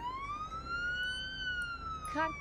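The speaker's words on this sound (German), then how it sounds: "ist er da aber fertig mit der Sirene?" A police siren in the video game Police Simulator: Patrol Officers wails in one long, steady rising-and-falling sweep, loud and clear over a low background rumble, with a brief chirpy burst near the end.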